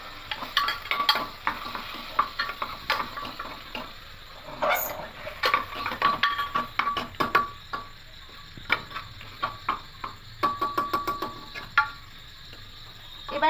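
Cumin, coriander, chilli and turmeric powders are stirred in hot oil inside a pressure cooker, making sharp, close metallic scrapes and clicks in quick bursts over a faint sizzle, with no speech.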